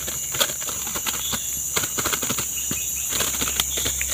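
Quick flutters of a released orange-headed thrush's wings beating in short bursts against a steady hiss of outdoor background noise, fairly close by.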